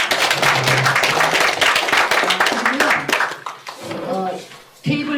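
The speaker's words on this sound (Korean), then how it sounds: "오늘 수고하신 강사님께 박수 한번 부탁드립니다" An audience claps for a lecturer at the end of a talk on the 1987 constitution, a dense patter of applause that fades out under people talking nearby.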